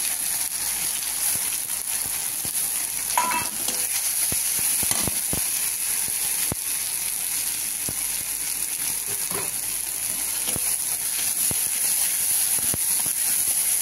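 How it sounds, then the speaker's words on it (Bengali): Spices and ginger fry in hot oil as the base for moong dal khichuri, a steady close sizzle running throughout with a few soft clicks of a utensil against the pan. "এটা একটু দিয়ে তেলে আগে কষে নিই। আমি মশলাটা আগে দিয়ে দিচ্ছি, আদা"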